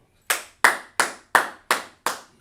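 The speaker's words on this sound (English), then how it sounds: "let's clap it up for them" Hands clap for a group at a gathering, giving seven sharp, evenly spaced claps that ring loud and close, with no voices over them.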